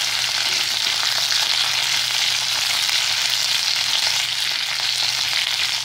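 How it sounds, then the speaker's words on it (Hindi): Cauliflower frying in a pan with cloves for a mixed vegetable spinach curry, giving a steady, dense sizzle that stays loud and even throughout, with no talking. "थोड़ा गोभी से भून लेंगे।"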